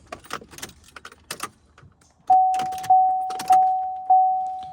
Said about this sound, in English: when we turn our key on